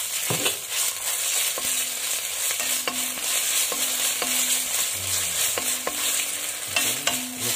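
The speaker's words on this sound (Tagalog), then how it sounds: "Mix up lang yan." Food being stirred and mixed in a sizzling pan while cooking tochong bangus with crushed ginger, repeated scraping strokes of a utensil over a steady frying hiss, close and fairly loud, no voices.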